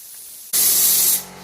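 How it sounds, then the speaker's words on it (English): An aerosol can of anti-rust underseal sprays in one steady, loud hiss of about three-quarters of a second. It is applied to the underbody of a Maxus eDeliver 3 campervan, and the hiss cuts off cleanly with no talk over it. "So what I'm going to do is I'm going to sort of like just spray all this."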